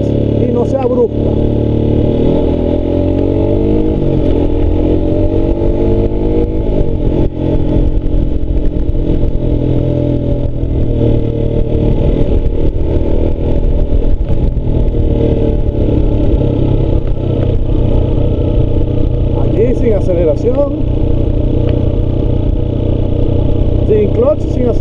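A motorcycle pulls away with smooth clutch engagement and rides on, its mid-pitched engine droning steadily and close throughout, shifting slightly in tone, while someone talks over it.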